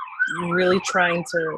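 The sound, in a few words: sirens outside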